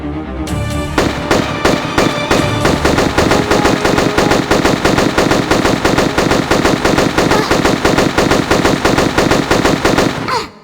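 Rapid automatic gunfire in a Tomb Raider custom level, a loud continuous stream of close, evenly spaced shots lasting about ten seconds before cutting off.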